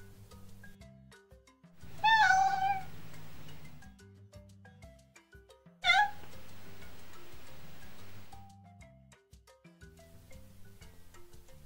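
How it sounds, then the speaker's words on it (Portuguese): A domestic cat meows twice, a longer wavering call followed by a shorter sharp one, heard clearly over a soft ticking, plucked background tune. "Gato."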